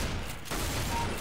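A sniper rifle shot in the video game CS GO, one dense burst that thins out briefly and then returns as a loud wash, close and alone with no talking.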